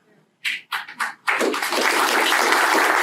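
Keynote audience applause at a swag-management product premiere: a few sharp individual claps first, then a full, steady round of crowd clapping swelling to fill the room.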